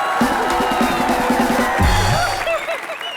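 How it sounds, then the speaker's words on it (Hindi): A television comedy show's studio audience claps and cheers loudly in a sustained burst, with crowd noise swelling and overlapping other sounds throughout. "जोरदार तालियों से स्वागत कीजिए।"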